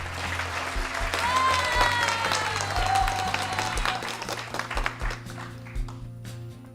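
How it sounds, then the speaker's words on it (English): Crowd clapping at a conference awards ceremony, a dense wash of applause that holds strong before thinning out and fading toward the end. "Clap some more."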